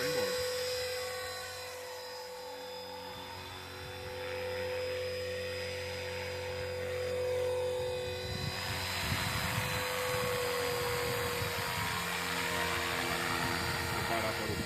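A radio-controlled Bell 206 Jet Ranger model helicopter flies in strong wind, its steady high rotor and motor whine running throughout with wind noise, swelling louder in the second half.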